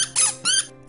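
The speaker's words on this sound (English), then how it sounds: "So while a normal squeaker toy sounds like this," A normal squeaker dog toy squeaks twice in quick succession, two bright, close, high-pitched squeals separated by a short pause.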